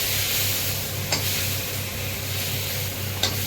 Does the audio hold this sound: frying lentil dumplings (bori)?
yes